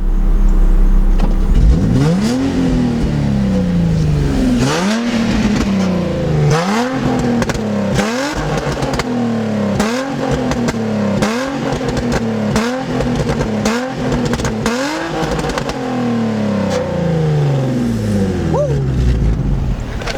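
A Nissan G35 engine revs repeatedly through a loud exhaust with Berk resonated test pipes, each throttle blip rising and falling in quick succession, with a steady idle rumble between.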